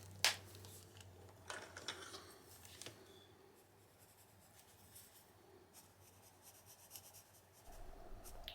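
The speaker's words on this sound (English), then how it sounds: "I'm just adding some pencil here." Pencil scratching over paper in a junk journal, a soft dry scribbling texture that runs steadily with a few sharper strokes, close and quiet with no voices.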